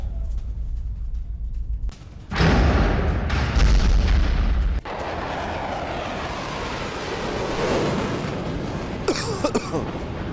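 Russian military strikes in Syria in news footage: heavy booming blasts and rumbling roar, loudest in a sustained burst early on, with wind-like noise and distant rumbling continuing after.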